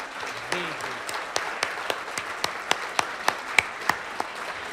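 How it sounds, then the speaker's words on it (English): Audience applause at a business excellence awards evening in North Vancouver, a dense wash of clapping that thins toward the end into scattered sharp individual claps, with a brief voice near the start. "please give our committee a big round of applause"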